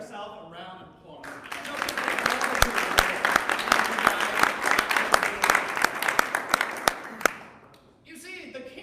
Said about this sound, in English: I want you guys to give yourself a round of applause.